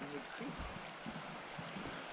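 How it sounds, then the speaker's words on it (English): Cottonwood Creek in Grand Teton National Park, Wyoming, flowing after a night storm, a soft steady rush of stream water heard faintly at a distance, with low muffled bumps mixed in. "Here is Cottonwood Creek."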